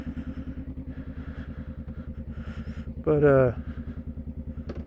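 Idling engine of a 2021 Honda Rebel 500 SE parallel-twin motorcycle, a steady rhythmic loping thump with a rattly edge, close and continuous, briefly overlapped by a short spoken word.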